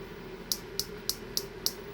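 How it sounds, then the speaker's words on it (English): Five sharp, evenly spaced taps on a hollow plastic action figure, bright clicky knocks about a third of a second apart over a faint room hum, close and quiet. "That is the sound of a hollow figure."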